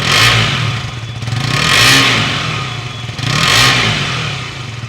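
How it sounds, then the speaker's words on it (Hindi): A KTM 200 Duke motorcycle's exhaust revs three times, each surge swelling and falling back to a rough idle, loud and close with no voices. "तो चलिए सुनते हैं इस बाइक की एग्जॉस्ट नोट"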